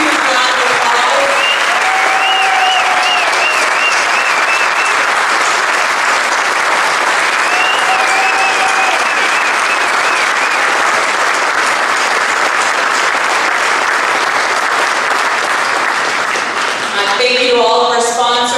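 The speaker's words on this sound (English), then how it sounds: "Ben Swan, Ted, Brian Thomas, let's give them another huge round of applause." Loud, sustained crowd applause at an outdoor Tea Party tax day rally in Cincinnati, a dense wash of clapping with cheers and whistles over it, running almost unbroken for the whole stretch before easing near the end.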